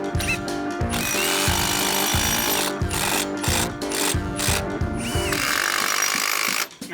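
A power drill whirs loudly and continuously while fitting cable rail posts on a deck, its motor pulsing and changing pitch in short bursts before cutting off at the end.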